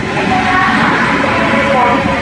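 A train rumbles along at Nidadavolu railway station, a broad continuous roar with steady low-end rolling, loud and close, with no break across the moment.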